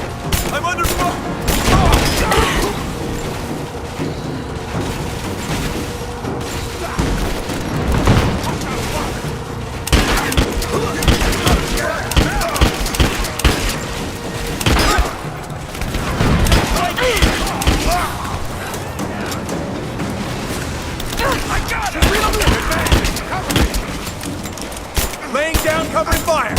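Sustained gunfire from the video game Rise of the Tomb Raider, with dense bursts, heavy booms and rattling volleys that overlap one another, loud and continuous under shouted combat voices.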